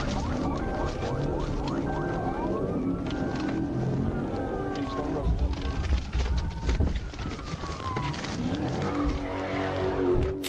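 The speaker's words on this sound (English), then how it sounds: "he lost control of his vehicle, causing it to spin out" A fleeing suspect's car losing control and spinning out after leaving a gas station during a police chase, with rising and falling tire squeals over a loud engine roar and road noise, heard from a distance.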